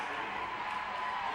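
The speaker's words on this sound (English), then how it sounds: "That was the only horse that got a cheer." Crowd cheering for a racehorse at a horse race, a steady broad wash of many voices roaring together at moderate distance, sustained without breaks.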